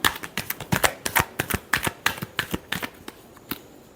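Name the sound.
shuffling tarot cards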